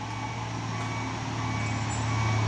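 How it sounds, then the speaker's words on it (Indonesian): Heavy trucks, a brown one and a Pusoren one, labor up a hill road with a constant loud low engine drone and hum that swells slightly toward the end, no voices. "Truk coklat dan truk Pusoren mau menanjak muatan apa nih?"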